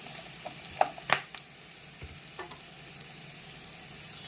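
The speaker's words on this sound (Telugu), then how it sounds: "ఇవి బాగా అన్నీ కలుపుకొని ఇవి కూడా ఫ్రై అవనిద్దాము" Small pieces of peeled ridge gourd fry quietly in a pan with a low, even sizzle; two sharp utensil clinks come early as they are stirred.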